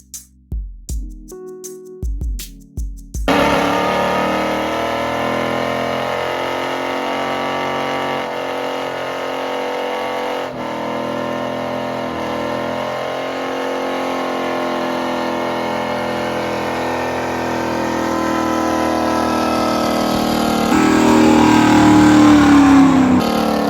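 A 1972 Chevrolet Nova's swapped engine idles with a knock, a steady loud mechanical drone running throughout after a few short starting bursts, swelling slightly louder near the end.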